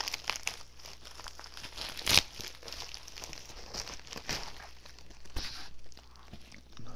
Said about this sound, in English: Sorry about all the noise from this envelope, but dang, it's a hassle.